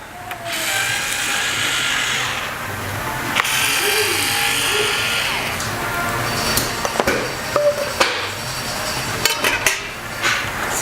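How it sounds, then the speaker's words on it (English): Perimeter screws being removed from the cover plate of a TRUBLUE SPEED auto belay: short whirring bursts from a powered driver, then light clicks and taps of screws and tools up close. "we can remove the perimeter screws"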